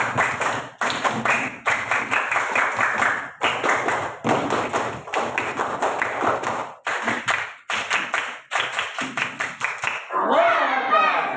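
A classroom group performs the Indonesian scout clap, tepuk pramuka: close, crisp bursts of patterned rhythmic clapping, repeated in sets with short gaps, followed by voices at the end.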